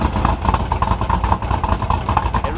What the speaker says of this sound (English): it really does loud exhaust.